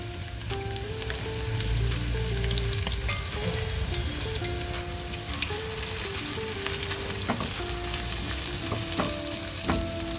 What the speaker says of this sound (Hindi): हम तेल में प्याज डाल देंगे।